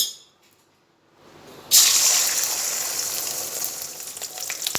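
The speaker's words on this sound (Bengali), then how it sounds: "ডিম ভাজা চলছে ডিমটা ভেজে" After a near-silent start, an egg hits a hot pan and a loud, bright sizzle bursts in, then holds as a steady crackling hiss with small pops. There is no talking.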